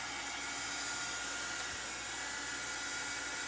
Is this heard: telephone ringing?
no